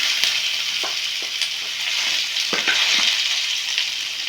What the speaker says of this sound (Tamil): எண்ணெய் கஞ்சிச்சு வெங்காயம் எடுத்துக்கோம்